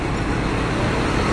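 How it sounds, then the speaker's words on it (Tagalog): Dense street traffic in the Philippines thick with motorcycles, a steady close roar of engines and road noise filling the whole moment without pause. "Traffic sa mga motor."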